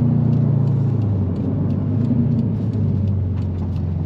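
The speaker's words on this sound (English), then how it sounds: "Hope the noise is not too bad in the microphone with the exhaust." A 2020 Subaru WRX STI rumbling under steady throttle while driving, its engine and exhaust heard from inside the cabin as a loud, continuous low drone with a slight shift in pitch partway through.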